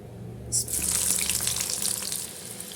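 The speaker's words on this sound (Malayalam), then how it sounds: "എണ്ണ ചൂടായിട്ടുണ്ട് കേട്ടോ. നമുക്ക് കുറേശ്ശെ ഇട്ട് കൊടുക്കാം." Potato fries dropped into hot oil in a pan set off a sudden loud, steady sizzle that fills the rest of the clip, with no talking.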